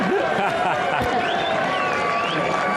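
A crowd at the Cheltenham Festival Gold Cup Chase cheers in a steady, loud roar, with commentary voices talking over it throughout.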